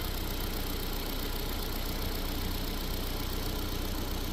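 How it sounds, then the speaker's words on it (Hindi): Ford Figo petrol engine idling with a misfire and a belt said to chirp, a steady, even drone held close and constant throughout, with no talk over it. "बेल्ट क्यों चिर चिर चिर चिर कर रहा है"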